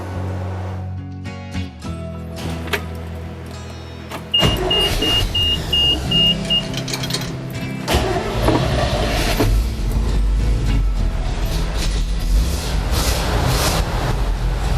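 A 1987 GMC 7000 truck with a 366 engine runs after a drive belt replacement, a quieter mechanical stretch giving way to a loud, steady, close engine rumble with no squeal.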